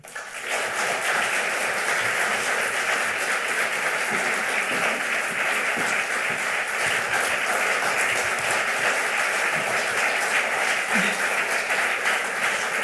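Audience applause greets a guest speaker at a college Common Hour lecture, a dense, steady wash of many hands clapping that fills the hall evenly, swelling in at the start and holding without a break.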